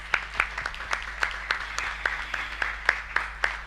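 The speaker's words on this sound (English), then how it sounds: "Let's give a round of applause for each of us." An audience at a puppetry seminar and festival in Bali claps together, producing a moderate, fairly even patter of applause with distinct individual claps in a steady rhythm over a low background hum, with no talk.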